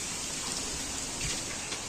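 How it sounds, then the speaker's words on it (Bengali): A light outdoor drizzle makes a soft, even patter of fine rain that stays faint and steady, with no voices. "এই বৃষ্টি চলে এসছে গো মামনি, ঝিরিঝিরি। মাম্মা বৃষ্টি পড়ছে"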